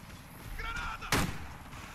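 A grenade goes off in the Warface shooter game, a single sharp burst landing in the middle amid quiet game ambience, with a faint voice just before it.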